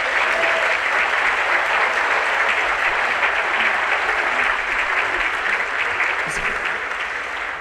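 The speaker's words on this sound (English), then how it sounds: "Let's give her a round of applause." Sustained, thick applause from a large audience at a military officer graduation ceremony, loud and even throughout, with faint murmuring blended into the clapping.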